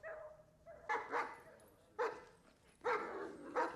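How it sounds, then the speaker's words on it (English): A dog barks from a TV show, several bursts of woofs and yips spaced a second or so apart, heard at moderate level through the television with no talk over it. "I like how he started barking as soon as he put the hat on."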